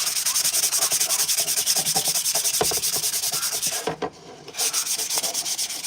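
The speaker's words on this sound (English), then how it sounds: "Got some 220 grit to work on these pieces." Steady, rhythmic rubbing of 220 grit sandpaper over primed Mandalorian costume armor pieces, close and continuous, with a brief pause near the end before the strokes resume.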